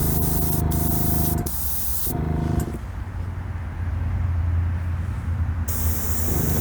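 Spray gun applying pink paint mixed with 2K clear onto a diecast car, heard as loud close hissing bursts in several passes separated by a short pause, with no talk.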